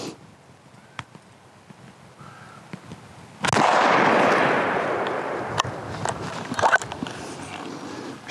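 A single loud rifle shot from a BRNO ZH205 combination gun, a sharp crack followed by a long rolling outdoor echo that fades slowly, with faint clicks around it.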